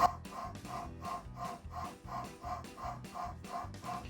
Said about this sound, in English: A defective PRV like this can cost you thousands of dollars, as well as make a terrible sound like this.